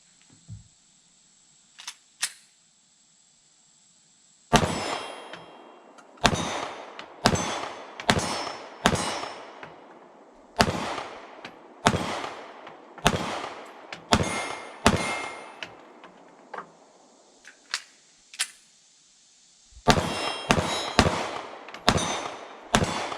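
Canik MC9 9mm pistol fired at steel targets about 15 yards away on an outdoor deck, sharp shots each followed by a ringing metallic clang, in irregular bursts with pauses between, loud and without speech.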